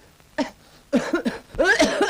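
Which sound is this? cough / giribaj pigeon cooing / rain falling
cough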